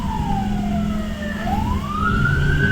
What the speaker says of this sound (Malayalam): ഒരു ആംബുലൻസ് ഇത്രയും സയറിന് ഹോണൊക്കെ അടിച്ചിട്ട് ബേക്കിൽ ഇങ്ങനെ വരുമ്പോൾ